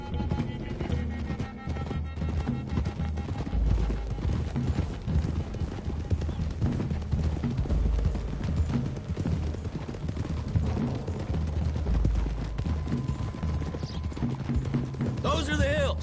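Horses gallop in Red Dead Redemption 2, a steady dense clip-clop of hooves running throughout, with an occasional whinny. Music and a voice sit under the galloping, and the level stays loud and even.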